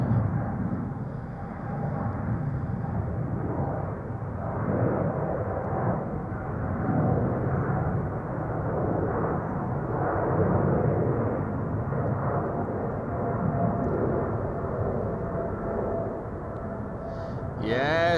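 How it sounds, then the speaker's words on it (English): An Emirates SkyCargo freighter departs Amsterdam Schiphol, its engines a loud, sustained broadband roar that holds steady throughout without voices. "Emirates Sky Cargo on its way to Dubai World Center."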